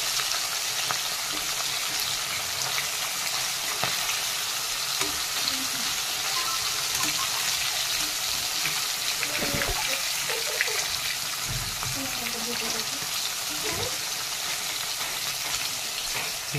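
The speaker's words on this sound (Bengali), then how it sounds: "মাছটা ভাজা হচ্ছে" Hilsa fish sizzles in hot oil in a pan, a loud, steady crackling fry that runs throughout, with faint clinks and scrapes as the pieces are turned.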